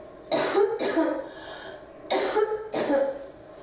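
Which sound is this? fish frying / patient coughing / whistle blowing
patient coughing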